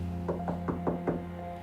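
Someone knocks on a door five times in an even, unhurried rhythm, each knock a hollow, muted thud heard close over a steady low hum, with no talking.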